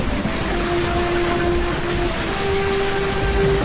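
Dense, steady hiss of heavy rain pouring during a storm, loud and continuous with a faint low tone running underneath.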